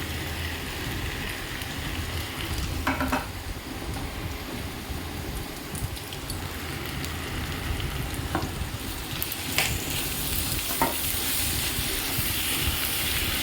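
Pre-fried eggs are added to a pan of tomato sauce for pasta, giving a steady, close, loud sizzle with a few sharp clinks and stirring scrapes throughout. No one speaks.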